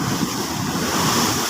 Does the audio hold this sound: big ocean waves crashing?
yes